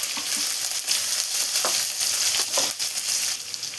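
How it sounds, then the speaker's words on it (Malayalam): Onions fry in oil with a steady, dense sizzle and occasional louder crackles, close by and continuous throughout. "ഇതിലോട്ട് 3 സവാള കട്ട് ചെയ്ത് വെച്ച് ചേർത്ത് കൊടുക്കാം."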